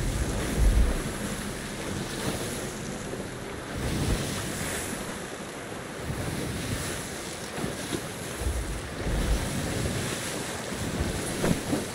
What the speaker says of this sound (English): Now in this game, the waves can push you as much as the waves do.